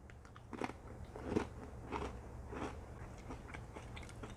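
Someone bites and chews Aldi Simply Nature coconut cashew crisps, producing four or five close, crisp crunches about half a second apart, quiet and with no talking.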